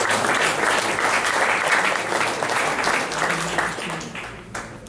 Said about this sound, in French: on peut vous applaudir pour toute cette belle carrière